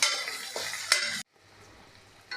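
Onion and tomato sautéing in oil in a pan, a close sizzling hiss with stirring scrapes that cuts off abruptly into a quiet low hum before a brief return.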